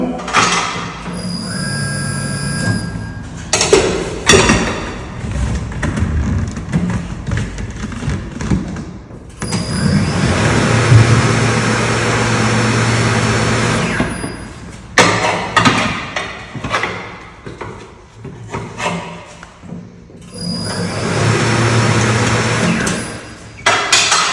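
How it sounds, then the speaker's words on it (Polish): Car tire being pried off its rim on a tire changer with a lubricating fluid applied: loud, rough mechanical grinding and scraping in long sustained bursts, broken by clunks, thuds and short pauses. "Przechodzimy do demontażu opony z użyciem tego płynu"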